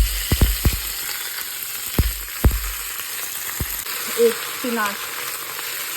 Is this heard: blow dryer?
no